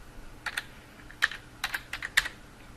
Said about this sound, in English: you can simply click in the search bar type in paint